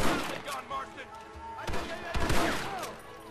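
Rapid bursts of Gatling gun fire in a Red Dead Redemption shootout, a dense crackling fusillade of overlapping shots with louder close bursts midway, under a voice speaking.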